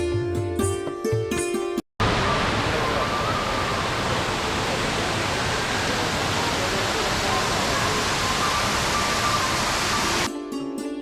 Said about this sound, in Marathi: छोटासा वॉटरफॉल आणि त्यातून पडणाऱ्या पाण्याचा खळखळाट हे दृश्य खूपच नॅचरल वाटते.